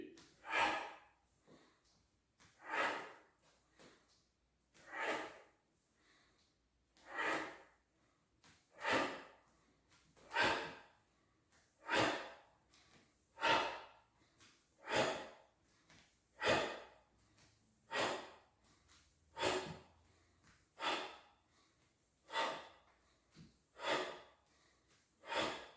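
Heavy, rhythmic breathing during breathwork squats, with forceful inhales and exhales repeating roughly every one and a half seconds, close and steady throughout with no talk.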